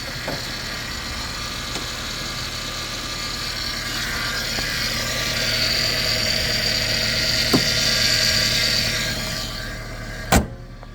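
A modified car engine idles steadily with a thin, high-pitched whine running over its rumble, and a sharp click near the end.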